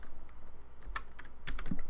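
Light typing on a computer keyboard while entering a password, a short run of quiet, uneven key clicks with a faint background hum.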